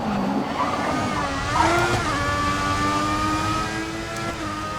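An F1 race car in F1 2014 on PS3 at Monza revs hard, its engine a loud, continuous high whine that climbs and shifts pitch, with a brief tire squeal midway.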